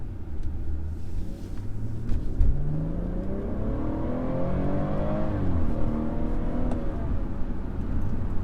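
A Stage 1 tuned BMW 440i accelerates hard in comfort mode, its engine note rising steadily through the gears with a shift around five seconds, heard as a continuous loud rumble from inside the car.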